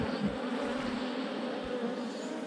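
A hornet buzzing right beside the ear near beehives, a close, steady droning hum with slight wavering in pitch, continuous throughout with no talk over it.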